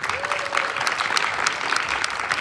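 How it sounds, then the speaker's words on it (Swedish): Applause from an audience at a Swedish wushu taolu championship, honoring a competitor after his score; steady, dense clapping fills the hall throughout without a break. "Och applåder för honom."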